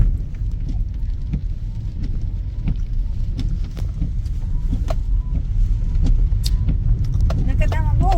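Many vehicles pass along a crowded road at a village fair in Kapuri Nes, making a continuous low rumble with occasional clicks and rattles, and voices murmur in the background.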